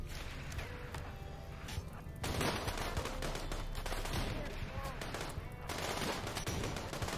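Gunfire in the Rimworld video game, rapid dense shots in sustained bursts, fairly faint, with a short lull between volleys.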